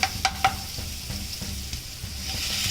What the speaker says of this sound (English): Now I'll be adding my spinach.